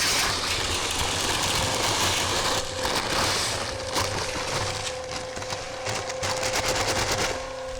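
Concrete mixer drum spinning wet faux rock concrete mud, a loud continuous churning rumble with a steady engine drone and sloshing, grinding texture throughout.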